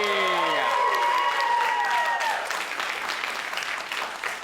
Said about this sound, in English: A round of applause for Mr. Kevin Magri